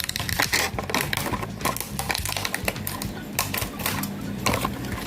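A sewing machine stitches a piece of plastic in place, giving a fast, clattering mechanical rattle with irregular knocks and shifts in pace, heard close up and continuous.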